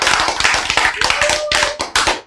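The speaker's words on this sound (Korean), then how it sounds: "박수!" Dense, rhythmic clapping from a church congregation during a sermon, loud and close with sharp overlapping hand strikes for about two seconds.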